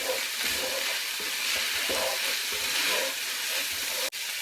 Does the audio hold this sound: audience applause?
no